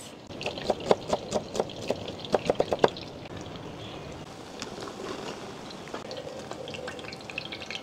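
Saluyot and labong fry in hot oil with a steady sizzle, while sharp pops and crackles come close together at first and then settle into a softer bubbling.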